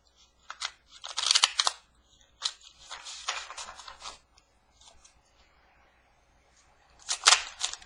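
Tarot cards being shuffled by hand, bursts of crisp riffling and slapping with short pauses between them, close and fairly quiet against a silent room.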